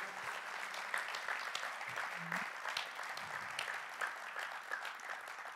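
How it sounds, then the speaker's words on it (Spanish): A church congregation claps steadily in a dense, even patter, moderately loud and sustained throughout, with a few brief tonal sounds underneath. "Así que démosle un aplauso"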